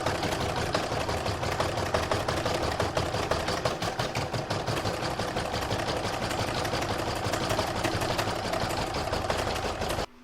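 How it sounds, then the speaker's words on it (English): An embroidery sewing machine runs a satin stitch around the edge of a Christmas star on a single layer of fabric, producing a loud, steady, rapid needle rattle that continues unbroken until it cuts off at the very end. "Next is round 10, which is going to put the satin stitch all the way around the edge of the star."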